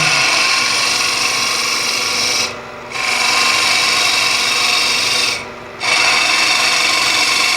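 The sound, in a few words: wood lathe turning tulip vessel with captured boring bar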